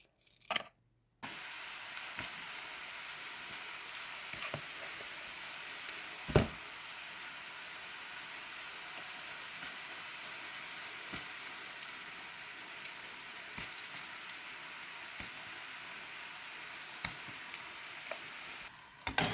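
Chana dal pakoda batter fries in hot oil, giving a steady, dense sizzle that runs almost the whole time after a brief quiet start, with a few louder crackles and pops scattered through it and no talking.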